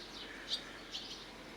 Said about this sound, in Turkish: Bunlar yeni çıkan kuşlar